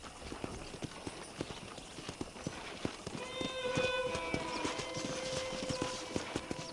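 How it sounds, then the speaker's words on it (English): Rapid, rhythmic horse hoofbeats in the video game Red Dead Redemption clip-clop steadily at a moderate distance, joined midway by a soft melodic tone. "I picked out a fine horse for you."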